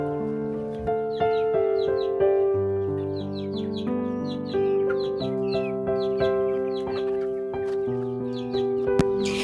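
A flock of about eighteen laying hens in a coop, clucking steadily with many overlapping calls and rising squawks, close and fairly loud throughout.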